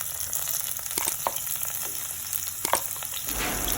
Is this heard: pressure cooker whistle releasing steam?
no